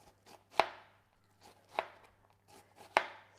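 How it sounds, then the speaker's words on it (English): A knife finely dicing onion on a board, three sharp distinct chops spaced about a second apart, each followed by a short rustle, with a few softer taps in between and a quiet background. "So that's how you can do fine diced onion."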